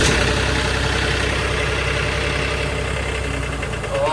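A sailboat's diesel engine runs at a steady idle, a continuous loud knocking rumble with even vibration and no clear start, and no voices.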